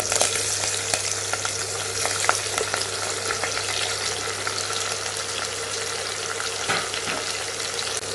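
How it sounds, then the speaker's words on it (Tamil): Steady, dense crackling sizzle of spices tempering in hot ghee or oil, continuous and fairly close, with a low hum underneath and no voices. "தாளிக்கிறதுக்கு நெய் அல்லது எண்ணெய் சேர்த்துக்கோங்க."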